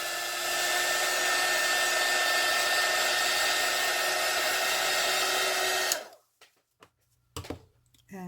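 A hair dryer blows steadily and loudly on an alcohol ink painting of an eye for about six seconds, then switches off, leaving quiet clicks and handling sounds.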